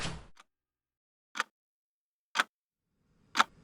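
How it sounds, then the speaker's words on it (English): A loud burst of noise, then three sharp isolated clicks spaced about a second apart in near silence, a wall clock's second hand ticking in a quiet police station. "Nathan could hear the clicks of the second hand on the wall clock."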